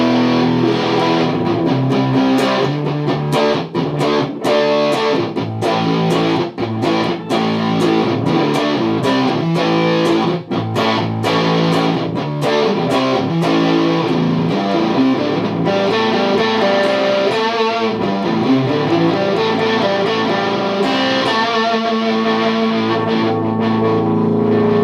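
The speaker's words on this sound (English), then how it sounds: "So yeah, it sounds pretty good. Nice kind of like an acid distortion." Heavily distorted electric guitar through an EHX/JHS Lizard Queen fuzz pedal plays continuously, loud and buzzy with a thick, fuzzy, saturated tone and strummed chords ringing through.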